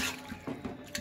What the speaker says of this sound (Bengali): জল অ্যাড করব